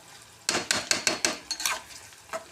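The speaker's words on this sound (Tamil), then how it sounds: "வெங்காயம் நல்லா வதங்கணும்." Chopped onions frying in a pan with mustard seeds and curry leaves, stirred in a series of sharp sizzling bursts and scrapes at a steady rhythm, close and fairly loud with no voices.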